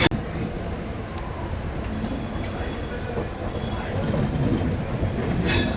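The Jan Shatabdi Express rolls slowly into Howrah station on a curve, a steady rumble of wheels with rhythmic clatter and faint squeals, holding loud and close throughout.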